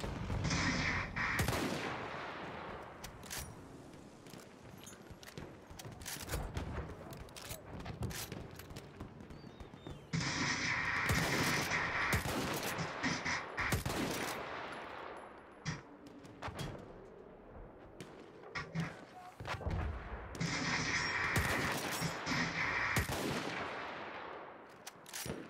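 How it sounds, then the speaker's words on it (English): Battlefield 1 combat with heavy, sustained bombardment: loud bursts of blasts and gunfire in surging waves, with brief lulls between them and a near, crowded battlefield feel. "They're trying to barrage bomb us."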